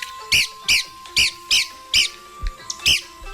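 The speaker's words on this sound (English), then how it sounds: "today's featured feathered friend, the red-cockaded woodpecker" Red-cockaded woodpecker calling: a series of about seven sharp, raspy squeaky notes spaced roughly every half second, loud and close, standing alone over a faint steady background tone.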